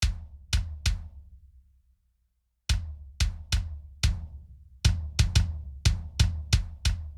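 Kick drum in a black metal mix with its upper-mid thud around 120 cut by EQ: three punchy hits, a pause, then a quicker uneven run of about a dozen close, dry thumps, no voices.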